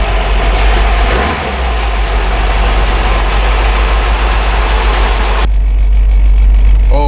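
A 1977 Toyota Celica's engine runs loud and close with a deep steady rumble, idling evenly through the clip with a brief dip near the start and a sudden change in tone toward the end, no voices.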